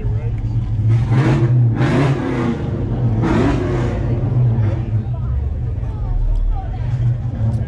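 A V6 car with a Flowmaster 40 series exhaust revs hard a few times with a deep, throaty exhaust, then settles into a rumbling idle, loud and close.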